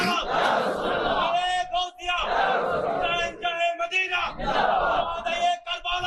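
A large crowd at a Bangla waz gathering shouts Allahu Akbar in response to a takbir call, three loud, long unison roars separated by short pauses.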